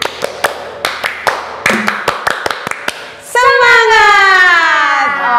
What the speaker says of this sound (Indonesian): tepuk semangat versi pramuka